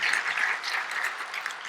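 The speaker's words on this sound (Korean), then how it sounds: "우리 찬양단들에게도 한번 박수." A church congregation gives a brief round of applause for the praise team at a Sunday worship service, soft, even clapping with no voices.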